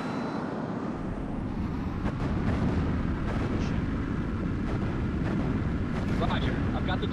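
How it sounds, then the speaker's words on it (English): A missile launches from a fighter jet in the H.A.W.X combat flight video game, a steady, loud roaring rush of engine and exhaust noise that holds throughout with a few sharper bursts over it. "Weapon launch."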